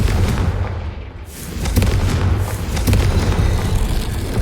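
A Confringo fire spell explodes in the Hogwarts Legacy video game: a loud, deep boom swells after a brief dip, then rumbles on with scattered crackling bursts.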